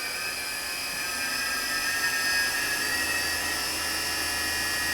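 Fadal 6030 HT CNC vertical machining center spindle running at about 6,500 RPM, a steady high-pitched whine with a broadband hiss, continuous and close for the whole stretch with no talk.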